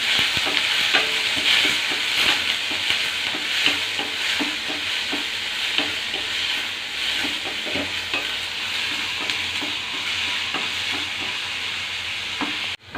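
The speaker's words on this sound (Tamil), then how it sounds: "கருவேப்பிலை போட்டதுக்கப்புறம் சின்ன வெங்காயம் போட்டுக்கிறோம்." Small onions fry in hot oil with curry leaves for drumstick sambar, a constant loud sizzle over many brisk stirring scrapes that keep a busy rhythm throughout, with no one speaking.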